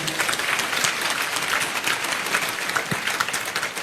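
An audience claps in a steady, dense round of applause throughout, moderately loud and sustained without pause.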